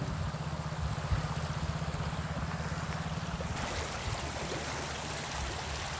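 River water flowing past a rural crossing near Malbazar in the Dooars, a steady rushing and gurgling wash with light wind, close and continuous, no talk.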